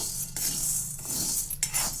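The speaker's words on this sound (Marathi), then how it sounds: "तर ह्याला छान असं मी शाबू भाजून घेते" Sabudana (sago pearls) dry-roasting in a pan while a spoon scrapes and clinks against the metal, a few sharp strokes over a dry rustling hiss, close and alone.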